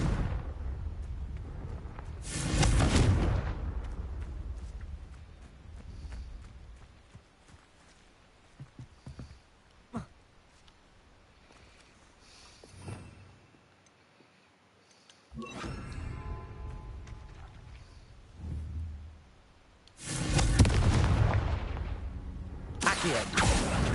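Confringo blasting-curse explosions from a Harry Potter video game: several loud booming blasts in bursts, spaced through a quieter stretch with scattered thuds and footsteps between them.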